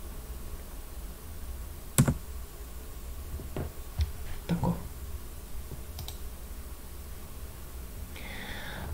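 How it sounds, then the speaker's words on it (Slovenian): A few sparse clicks, including an Enter key pressed on a computer keyboard, stand out as short sharp taps over steady room hiss, with faint rustling between them. "Spet kliknem Enter"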